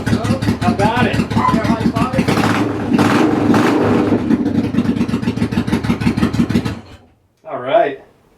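A 29-year-old Honda VT700 motorcycle built as a bobber fires up for the first time in 30 years, a loud, close, pulsing rumble that cuts off abruptly near the end, followed by a short voice.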